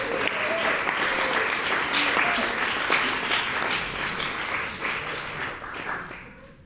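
An audience breaks into sustained applause in a large space, a broad, even roar of many hands clapping that holds steady and then tapers off near the end, with faint voices underneath.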